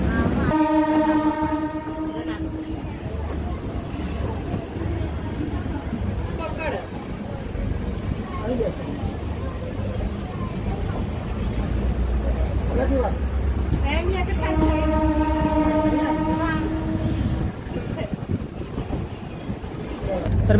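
The Parli Vaijnath–Sangli DEMU express, train 11411, pulls out of Kurduvadi junction in heavy rain, with a steady rolling rumble of wheels and carriages broken by two long horn blasts, one at the start and another midway.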